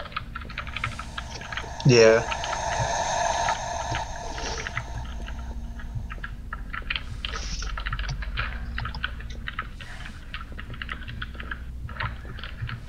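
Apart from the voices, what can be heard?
typing on computer keyboard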